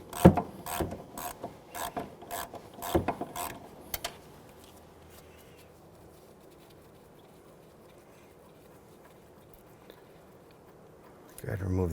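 A ratchet works a tight starter bolt on an Infiniti G37x 3.7L V6, a quick run of sharp clicking strokes in bursts, then near quiet before clicking resumes at the end.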